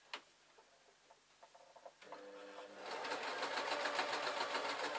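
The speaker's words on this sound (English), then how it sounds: "And then I need to sew the shoulder together." Home sewing machine stitching the shoulder seam of a wrap dress, starting with a few slow ticking stitches and then settling into a fast, steady mechanical whirr up close.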